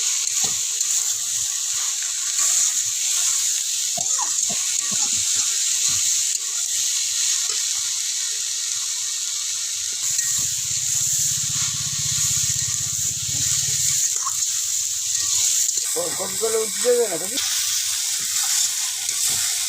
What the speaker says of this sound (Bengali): দিয়ে আর একটু ভালো করে নেড়ে নেবো।